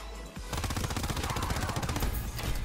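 Rapid pistol fire in a Call of Duty WW2 Zombies round, a dense, loud string of shots cracking in quick succession for over two seconds with no talk.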